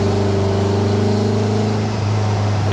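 Steady, loud engine drone of a 1967 Volkswagen Beetle pulling hard in third gear, a constant low hum with strong harmonics that holds evenly and dips slightly near the end, with no voices.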